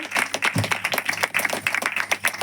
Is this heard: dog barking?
no